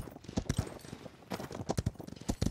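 Horse hoofbeats in the Paladins multiplayer video game: a quick, rhythmic clip-clop of hooves, fairly close, with repeated bursts of galloping strikes and no talking.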